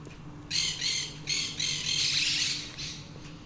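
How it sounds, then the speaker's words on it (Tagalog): A few birds squawking in bursts in the early morning near the sea, harsh calls repeated several times over a low steady background hum. "Puro ibon pa lang naririnig."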